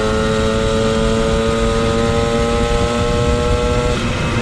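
A moped engine fitted with a racing variator, still being run in, revs steadily and loudly up close. It holds a high, buzzing, slightly rising tone the whole time, with no voices.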